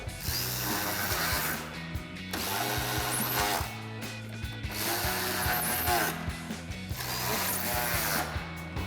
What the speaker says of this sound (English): Tighten those back down with our 8mm socket.